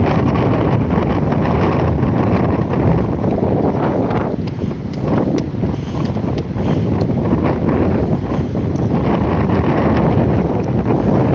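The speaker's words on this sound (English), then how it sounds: "It's windy, but it's not cold." Strong, steady wind on a seafront promenade at Withernsea buffets the microphone in a continuous loud roar, with faint wash of sea water beneath and no voices.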